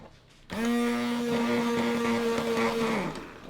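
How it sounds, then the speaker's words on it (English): A hand blender whirs steadily through vegetable pizza sauce, switching on abruptly and holding a loud, even motor drone for about two and a half seconds before winding down. "Okay, so then I'm gonna zap it with my hand blender."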